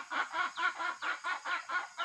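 Chickens on a rural farm cluck in a steady, rhythmic series of soft pulses, quiet and close, with no talking.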